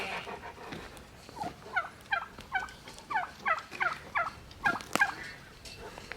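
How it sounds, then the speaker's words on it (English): Turkeys on a farm gobbling in a rapid run of rattling, warbling calls, about a dozen bursts in quick succession, fairly close and clear over quiet outdoor background. "now the turkeys decided to come out where everybody can see them"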